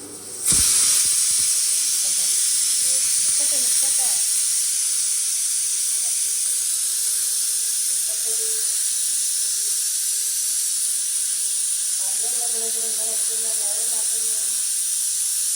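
A pressure cooker cooking chicken biryani vents steam for its third whistle in a loud, steady hiss that runs the whole time, with faint voices murmuring underneath.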